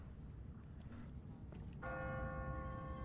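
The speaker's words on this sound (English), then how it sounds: "What kind of church bell goes off at 20 past the hour?" An automatic church bell in a city in The Walking Dead video game strikes once, its long, ringing tone sustaining over a low rumbling ambient background.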